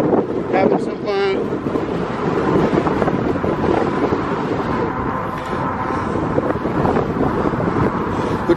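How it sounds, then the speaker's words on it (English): Strong wind buffets the microphone while riding a Lectric XP e-bike through residential cul-de-sacs, a loud continuous roar throughout with a brief muffled voice near the start. "it's kind of windy out here today. Very windy."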